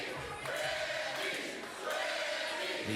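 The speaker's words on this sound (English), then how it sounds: "No, they're chanting your name." A bowling arena crowd in Portland chants a bowler's name during a PBA playoff broadcast, a rhythmic roar of many voices swelling and dipping over a few seconds at moderate volume.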